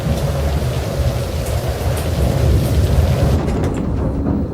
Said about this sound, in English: Right now we have heavy rain on the airport